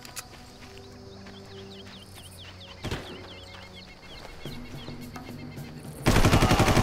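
An M4 rifle fires in the jungle-warfare video game Far Cry: a lone sharp shot rings out mid-clip, then a loud rapid burst of automatic fire closes it out over a background of game ambience and birdlike chirps.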